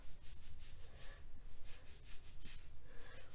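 Rice water being rubbed into scalp and hair by hand makes close, rhythmic scrubbing and rustling strokes, roughly a dozen quick bursts in steady succession.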